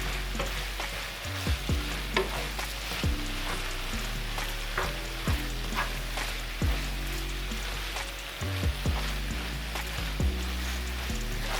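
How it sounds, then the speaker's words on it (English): Steady sizzling of chicken and shrimp sautéing in a pan, with repeated scraping and stirring clatters from a utensil throughout. "Saute for 3 to 5 minutes."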